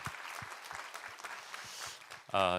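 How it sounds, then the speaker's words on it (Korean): Church congregation applauding after a sermon passage, a spread of soft, irregular claps running steadily for a couple of seconds before a voice comes in at the end. "우리 하나님께 감사와 영광의 박수 올려드리겠습니다."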